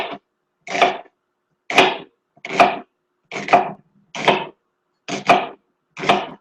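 A knife chops a celery stalk into slices for soup in a home kitchen. Eight crisp, evenly spaced cuts land on a board, close and clear, with silence between each stroke.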